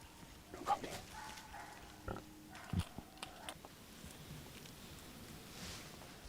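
Wild boars approaching during a driven boar hunt, heard as faint, distant grunting and snuffling mixed with light rustling and outdoor ambience.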